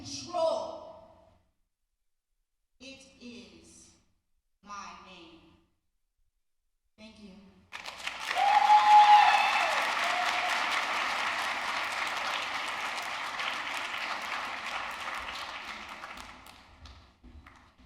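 Audience applause at an honors college induction ceremony, breaking out after several short spoken phrases and swelling into a sustained, dense clatter of many hands that holds steady before gradually easing off.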